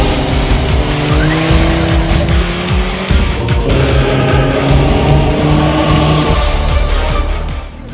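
A Suzuki GSX-S1000/F motorcycle runs hard on the Vairano race track, its loud close engine roaring and shifting pitch under acceleration for several seconds before fading slightly.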